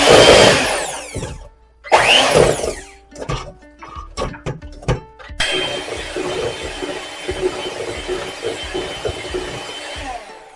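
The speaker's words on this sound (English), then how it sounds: "So this is a few minutes of mixing, and you'll see that you'll have a very creamy mixture" An electric hand mixer beats sour cream coffee cake batter. A couple of short whirring bursts come first, then after several clicks and knocks it runs steadily and loudly for about five seconds.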